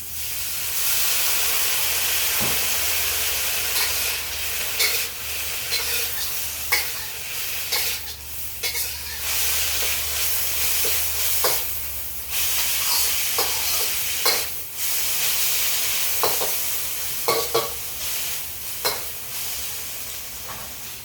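Sauce hits egg fried rice in a hot wok, setting off a loud, continuous sizzle and steamy hiss, punctuated by sharp spatula scrapes and tosses at an irregular rhythm, with no voices.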